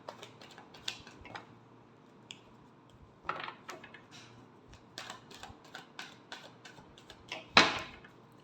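Tarot cards are shuffled by hand in a sequence of soft, quick flicking and riffling taps that end in one sharper snap, close and fairly quiet, with no talk.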